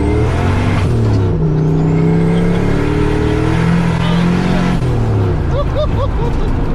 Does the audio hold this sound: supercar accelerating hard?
yes